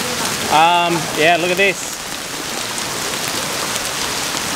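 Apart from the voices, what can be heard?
hail falling on a car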